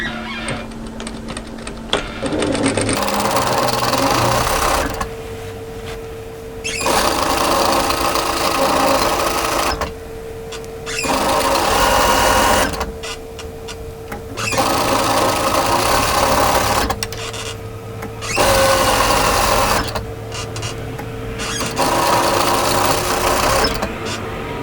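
A sewing machine, twin needle or cover stitcher, runs a tee shirt hem in repeated bursts of steady fast stitching, each a few seconds long, with short pauses between runs; loud and close with no talking.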